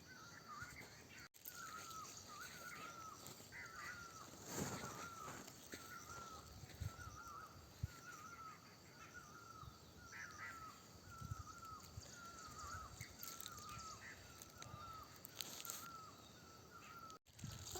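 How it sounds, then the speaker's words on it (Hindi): A kafua bird calls repeatedly in a village, its short cries coming at fairly regular intervals from a moderate distance over a quiet rural background, with no talking. "आजकल ऐसी चिड़िया बोल रही है हमारे गांव में"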